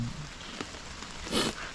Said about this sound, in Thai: อุ้ยฝนตก เริ่มตกหนักแล้วครับ